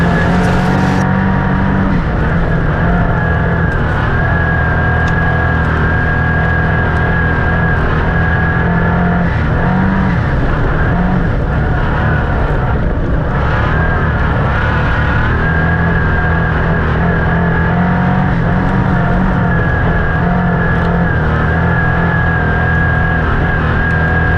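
Race cars at speed on a circuit, a loud continuous engine roar with sustained high droning tones and shifting pitch as cars pass and accelerate, filling the whole stretch without talk.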